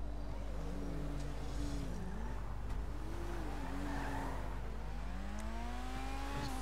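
A car engine in Grand Theft Auto V Online drones and shifts pitch as it accelerates and slows, with tires squealing in brief skids; steady and fairly close, no talking.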